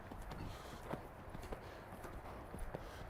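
A horse walks during groundwork training, its hooves landing in a steady, soft clip-clop rhythm on the ground, faint and fairly close, with no talking.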